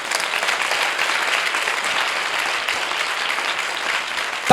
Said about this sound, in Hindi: जिनको समझ आया खुदा के जलाल के लिए ताली बजा दीजिए